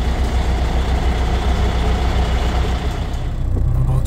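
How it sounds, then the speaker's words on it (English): A Big Cam Cummins diesel idling in a Volvo VNL780 truck, a loud, close, steady low rumble with a slight uneven lope and no other sounds. "Big Cam Cummins is running."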